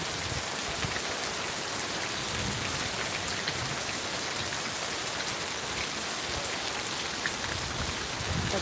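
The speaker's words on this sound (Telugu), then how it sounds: "చాలా ఎక్కువగా వస్తుంది వర్షం" Steady, heavy rain pours down continuously, a dense, even hiss of drops drumming on surfaces with no voices.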